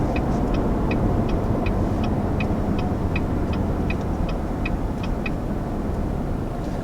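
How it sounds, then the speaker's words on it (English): A 2020 Cadillac Escalade, sharing its engine with a Corvette, cruises up to highway speed: a steady broadband road and engine roar with a faint regular ticking, like a turn signal, running through it. "Have no trouble getting this big guy up to speed on a highway."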